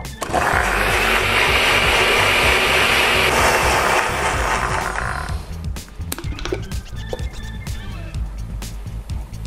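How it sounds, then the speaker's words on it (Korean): An electric blender whirs loudly while mixing bulletproof coffee, a harsh, steady whine for about five seconds that then cuts off, with a person talking over it and afterward. "믹서기로 돌리는 거는 한 15초, 20초, 뭐 30초 이상을 넘을 필요는 없어요"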